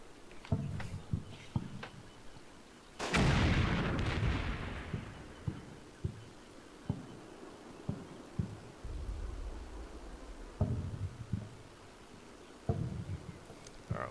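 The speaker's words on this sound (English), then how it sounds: "Spotting mortar round just landed." Mortar rounds land in a video game as a heavy, booming impact with a long rumbling tail, surrounded by scattered distant thuds and gunfire pops throughout, with no talk.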